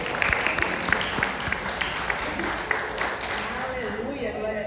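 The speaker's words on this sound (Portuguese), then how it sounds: "Você pode aplaudir o Senhor." A church congregation claps in a steady wash of applause, close and fairly loud, while a preacher keeps speaking over it and the clapping fades toward the end.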